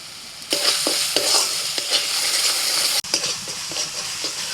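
A spiced masala with yogurt stirred and fried in a pan, a steady bright sizzle broken by repeated scraping strokes of a spoon against the pan, close and loud, with no voices.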